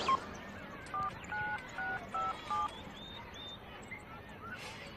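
A telephone keypad tapped out a number, giving a quick series of six or so steady dual-tone beeps with short gaps, fairly clear over a quiet room background.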